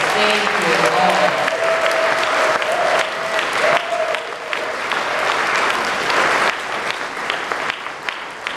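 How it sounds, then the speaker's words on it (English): At an annual honoring and cultural celebration, an audience gives honorees a final round of applause as they leave, sustained clapping with a voice briefly heard at the start. "as our honorees leave, can we give them one last round of applause?"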